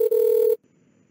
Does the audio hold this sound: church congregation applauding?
no